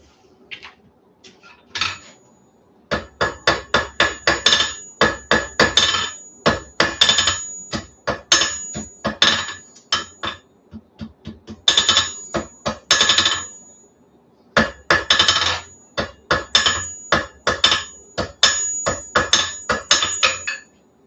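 Small hammer ringing on hot metal while a coal rake is forged and welded, close and loud, struck in rapid bursts of sharp metallic blows with short pauses between runs.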